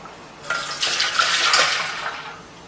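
Vanilla cream mixture containing vanilla pods pours through a strainer in a soft, steady liquid stream for about two seconds, close and moderately quiet, with no talking.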